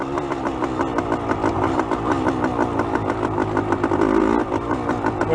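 An original 1973 Yamaha Enduro 175 motorcycle with a slipping clutch, its small engine revving loudly and steadily up close with a rapid buzzing two-stroke pulse that surges briefly near the end.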